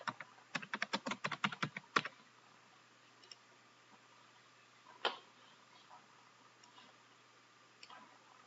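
Quick bursts of clicking keystrokes on a computer keyboard as plain text is typed, a rapid cluster of close taps for about two seconds followed by a few isolated clicks in near silence.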